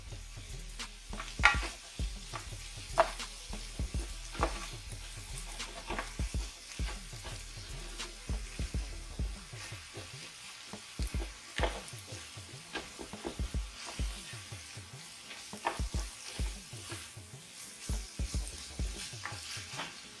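Ground turkey browning in a skillet, sizzling steadily while a utensil stirs and scrapes it in frequent short strokes, close and continuous with no talk.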